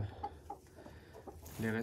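Two blue golden partridge hens cluck softly in a breeding pen, a few short quiet clucks followed by a louder drawn-out call at the end.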